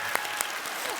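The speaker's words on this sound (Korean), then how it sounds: "박수 치면서 넘어가도록 하겠습니다" Brief burst of audience applause at a Korean youth talk-show event, a short scatter of claps over a second with a couple of sharper hand strikes standing out, moderately quiet in a hall.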